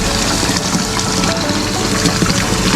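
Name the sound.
water flowing from koi pond filter pipe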